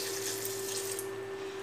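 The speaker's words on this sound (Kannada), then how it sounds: "ಈಗ ಒಂದು ಅರ್ಧ ಲೋಟದಷ್ಟು ನೀರು ಹಾಕುವ." Water pours steadily into a cooking pot holding carrots, cauliflower, beans and green chickpeas for a vegetable cutlet mixture, a continuous close splashing stream with a steady hum underneath and no talk.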